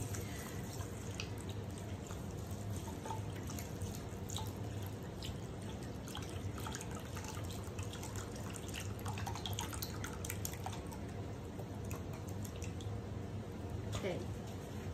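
Reduced sodium chicken broth poured from a carton into a casserole dish for a Spanish rice and chicken bake, a steady trickling and dripping of liquid that runs continuously at low level while a person talks.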